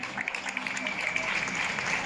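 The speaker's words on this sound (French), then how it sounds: "les gens commencent à applaudir les médecins au balcon, aux fenêtres, comme tous les soirs" Residents clap from balconies and windows in central Madrid at 8 pm for doctors during the coronavirus lockdown, a steady spread-out patter of applause heard from a distance, mixed with a voice talking over it.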